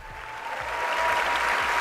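Applause fills a State of the Union address chamber, a dense, steady clapping that grows slightly louder and continues for the whole stretch.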